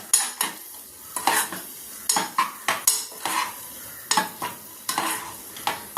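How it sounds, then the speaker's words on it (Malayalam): Sour gooseberries being sautéed in oil for a moru curry, a utensil scraping and clinking against the pan in irregular bursts over a faint sizzle, close and clear with no talking. "ഇനി എണ്ണയിലിട്ടൊന്ന് നന്നായിട്ടൊന്ന് വഴറ്റിയെടുക്കണം"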